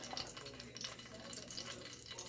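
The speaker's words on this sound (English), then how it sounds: "Sizzling, baby, sizzling." Soft, steady crackling and sizzling of a pot roast searing in hot grease, quiet and continuous throughout.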